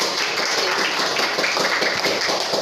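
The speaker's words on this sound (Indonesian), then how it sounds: "tepuk tangan untuk kelompok 3" Classroom applause from pupils for a presenting group, a continuous wash of many hands clapping, fairly distant and even, with no talk over it.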